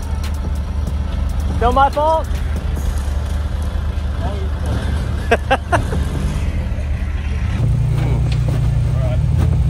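A Jeep engine drones steadily and loudly from inside the cab while driving off-road, with bumps and rattles and voices talking over it, the rumble deepening toward the end.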